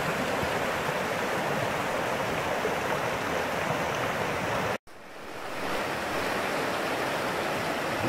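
A fast, swollen stream after heavy rain rushes in a loud, steady broadband roar, close by. The sound cuts out abruptly for an instant near the middle, then resumes slightly softer.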